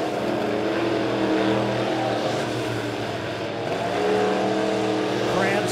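Dirt track modified race cars roar around Springfield Raceway near the end of a heat race, engines droning loud and continuous with shifting pitch as they pass, under a race announcer's commentary.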